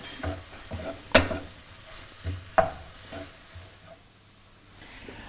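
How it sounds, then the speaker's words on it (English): Ginger and garlic being stirred in a pan for a South Indian prawn curry, a faint sizzle with a few scraping utensil clinks at irregular intervals, close and quiet. "So I'm adding ginger and garlic. And just mix them very well."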